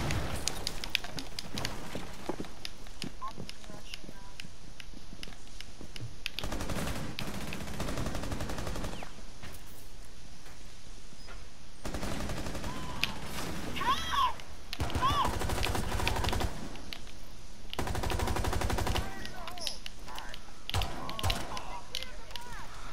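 Bursts of automatic gunfire in the video game Rainbow Six Siege, several distinct volleys of a few seconds each over quieter game ambience, with players talking at times.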